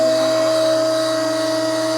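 A hydraulic tube bending machine bending a frame rail at a fabrication shop, a loud, steady mechanical whine with a constant pitched tone and humming drone, unbroken for the whole stretch.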